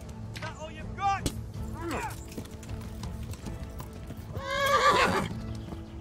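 Horses in the video game Kingdom Come neighing loudly and shrilly several times, with hooves clopping and a thwack, under scattered talk.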